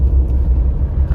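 A car engine rumbles low and steady from inside the vehicle as the driver shifts into third gear, a brief continuous drone with no distinct revving.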